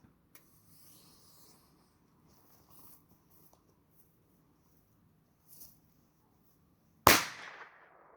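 Near a pile of campfire wood outdoors, a firecracker goes off with a single sharp, loud bang and a quick decaying crackle, after several seconds of quiet ambience with faint rustles and clicks.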